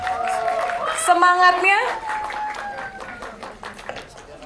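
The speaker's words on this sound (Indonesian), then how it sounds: "Sekali lagi saya minta tepuk tangannya." Applause from the audience at a film press conference for the horror movie Malam Para Jahanam, heard as a brief clapping burst beneath a host's loud, ongoing talk into the microphone.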